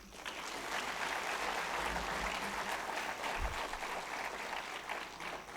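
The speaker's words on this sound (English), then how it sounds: "At least clap yourself for that." An auditorium audience at a university event clapping for themselves, a dense, sustained round of applause at moderate distance, with no talking over it.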